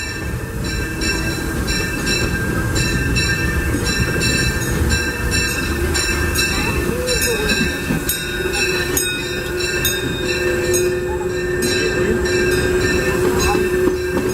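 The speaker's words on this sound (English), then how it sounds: "We're now steaming forward." A Disneyland Railroad excursion train pulled by the steam locomotive C.K. Holliday #1 rumbles along steadily, heard from aboard, with continuous rolling wheel noise, rhythmic clicks over rail joints and faint wheel squeal.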